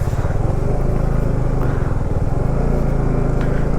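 A motorbike rides through a muddy landslide stretch of mountain road in West Sikkim, its engine a loud, steady, close drone with no pauses throughout.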